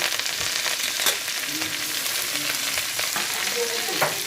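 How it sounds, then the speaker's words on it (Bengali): Steady sizzling of black cumin seeds frying in oil, continuous and close, with occasional scrapes of stirring and no voices. "কালো জিরেটা অল্প করে ভেজে নেব, এটা বেশি ভাজা যাবে না"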